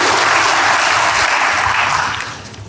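A church congregation breaks into loud, steady applause during a sermon, a thick wash of clapping that holds evenly and then tapers off near the end.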